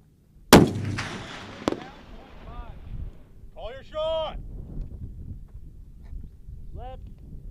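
A US Marine fires an M-107 Barrett anti-materiel sniper rifle outdoors, one loud booming shot near the start with a long rolling echo, followed by wind noise and brief radio-like voice chatter.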